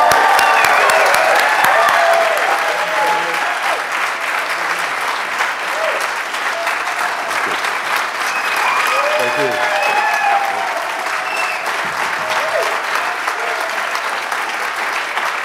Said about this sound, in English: Let's give him an awesome round of applause.